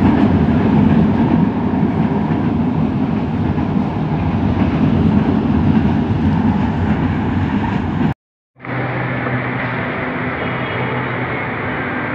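A steady loud rumble of an LRT light rail train rolling past in Pasay, with a brief drop to silence before the rumble resumes.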